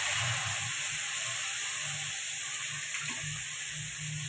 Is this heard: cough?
no